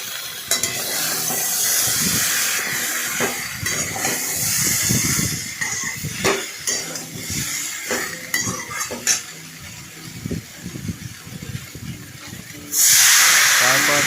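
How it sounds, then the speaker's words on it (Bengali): A spoon scrapes and clinks in a pan while vegetable curry of sojne data, potato, eggplant, green banana and bori, with coriander and cumin powder, hisses and sizzles; stirring comes in irregular bursts, ending in a louder hiss. "ধনের গুঁড়ো দিলাম দিয়ে সেটাকে ভালো করে ভালোভাবে নাড়াচাড়া করলাম"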